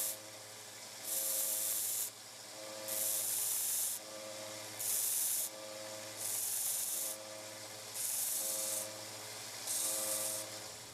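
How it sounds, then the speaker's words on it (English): 1x30 belt sander with a 120 grit belt cleaning up the metal ferrule of a square shank machinist screwdriver, the motor humming steadily while gritty grinding bursts rise and fall in repeated passes about every second. "The ferrule was wide enough for me to clean it up with my 1x30 machine."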